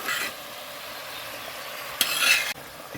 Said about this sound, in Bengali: আমার গ্রেভিটা ফুটতে শুরু করেছে, আমি মাছটা দিয়েছি।